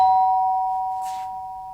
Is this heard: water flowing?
no